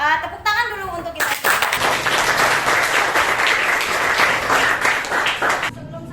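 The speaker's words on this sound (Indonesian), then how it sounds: "Tepuk tangan dulu untuk kita." A high school chemistry class applauds at the end of a lesson. A teacher's voice speaks briefly, then many hands break into loud, dense, continuous clapping that lasts several seconds before stopping abruptly.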